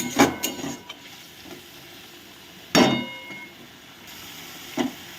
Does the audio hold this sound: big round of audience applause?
no